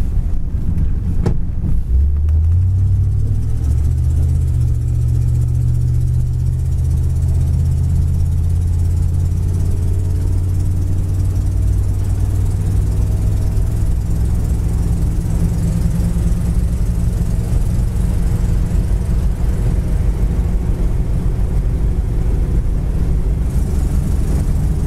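A 1957 Chevy Bel Air drives down the road, its engine rumbling low and steady with wind noise throughout, no talking.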